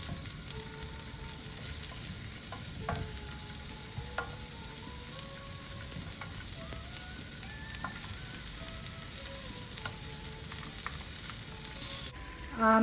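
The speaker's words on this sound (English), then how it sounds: "I'm just going to fry these quickly until very slightly golden" Vegetables for a grilled veg and pesto mozzarella panini fry quickly in oil in a pan, giving a continuous, even sizzle with occasional small clinks, no voices.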